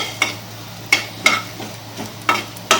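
Whole black peppercorns dry roasting in a pan for a ghee rui fish roe recipe, stirred with a few sharp scraping strokes, about five distinct scrapes spaced across a faint steady background hum, no voices.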